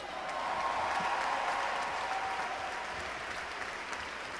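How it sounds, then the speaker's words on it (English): Sustained crowd applause at a rally on economic equality, even and fairly distant, with no clear speech over it. "clap now"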